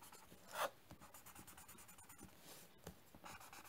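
A paper stump rubs and blends a pen-and-paper drawing, giving soft, quiet scratchy strokes in an irregular rhythm with one brief louder swipe.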